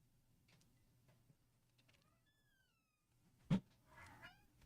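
A house cat meows faintly against quiet room hum, with a soft drawn-out call followed by a sharper, louder cry near the end.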